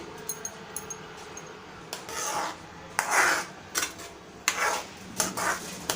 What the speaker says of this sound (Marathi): दहा 15 मिनटं आपल्याला स्लो गॅसवरती असंच हे ढवळत राहायचं आहे.